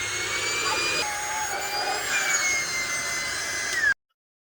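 An air compressor blows steadily, loud and close, inflating a giant inflatable darts board, a continuous rushing hiss with shifting tone that cuts off abruptly near the end.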